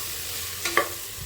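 Spices frying in oil in a pan for jackfruit biryani, with a steady low sizzle and two quick bursts of a spoon stirring and scraping close up, no voices.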